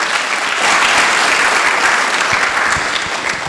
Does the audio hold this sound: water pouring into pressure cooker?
no